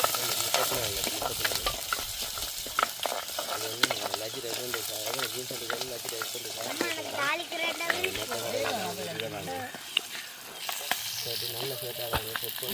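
Steady crackling sizzle of cumin and spices tempering in hot oil, with occasional stirring scrapes, continuous and close throughout.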